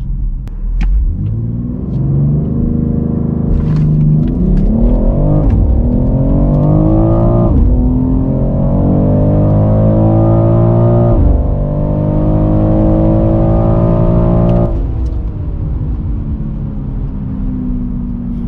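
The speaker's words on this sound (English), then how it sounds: "Slight burbles, slight crackles." A 2022 BMW X3 M Competition SUV engine revs hard through several gears, pitch climbing and dropping with each shift, with faint exhaust burbles and crackles between pulls; no voices.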